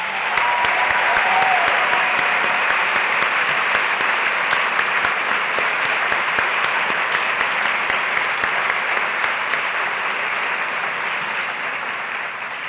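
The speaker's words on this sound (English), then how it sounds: "will you please join me in a round of applause for these exceptional new scholars" A large audience at a university convocation gives sustained, even applause for new scholars, a loud wash of clapping that carries on for over ten seconds and fades slightly toward the end.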